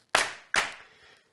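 Two crisp hand-clap samples from an Alesis Nitro Mesh electronic drum pad, struck about half a second apart. Each is loud and close with a short decaying tail, and nothing else is heard.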